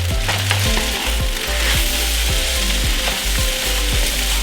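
Green onions stir-fried into pad thai in a hot pan: a steady close sizzle with repeated scraping stir strokes at an even pace, no voices.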